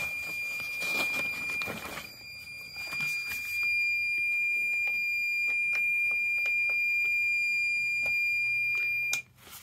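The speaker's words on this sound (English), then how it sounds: "it's still making audible beeping noise" A steady high-pitched electronic alarm tone sounds continuously, with short sharp beeps and clicks over it, then cuts off abruptly near the end.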